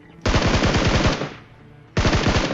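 Automatic gunfire in a battle royale video game: a loud close burst of rapid rattling shots lasting about a second, a short lull, then a second burst starting up.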